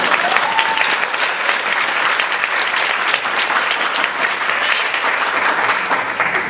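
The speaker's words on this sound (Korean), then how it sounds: "박수 한번 해주시죠." A church congregation claps together in sustained, dense applause, steady and full throughout with no voices on top.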